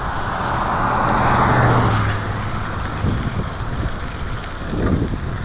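Cars passing on a road with a wide shoulder, heard from a bicycle as a broad rushing swell of tire and engine noise mixed with wind buffeting the microphone.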